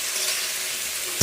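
Onions and chillies with salt and turmeric sizzle in hot oil in a pan, a steady, close crackling hiss throughout the short moment.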